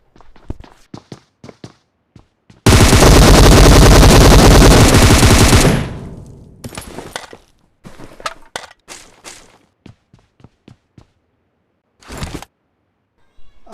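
Gunfire rings out in the battle-royale game PUBG. A long, loud, continuous automatic burst of about three seconds is framed by scattered single shots and quick in-game footsteps.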